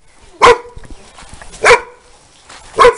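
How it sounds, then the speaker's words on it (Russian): A shepherd dog running around a house yard gives three sharp, loud barks spaced about a second apart, with quiet background noise between them. "Такая овчарочка бегает,"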